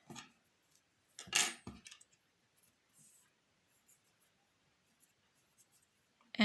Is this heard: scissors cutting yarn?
yes